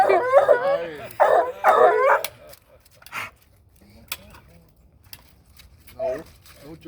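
An excited Bluetick Coonhound bays in a few loud, drawn-out bursts near the start, then goes quieter with scattered small sounds. People talk nearby.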